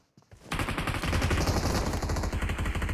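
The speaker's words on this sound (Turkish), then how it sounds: "O soldan sıkan var." Sustained automatic gunfire in the PUBG Mobile battle royale game, a loud, continuous rapid rattle of shots that starts abruptly after a brief quiet lead-in and carries on without a break to the end.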